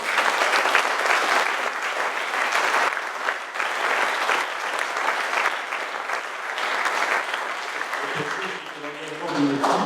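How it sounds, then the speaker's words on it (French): A conference audience breaks into sustained, dense applause filling the room, steady and loud, with a voice starting to speak as the clapping tapers near the end. "Je propose qu'on l'applaudisse encore une fois."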